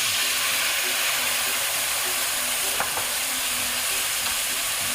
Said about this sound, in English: we're going to go ahead and add our wine. And this will help deglaze the bottom.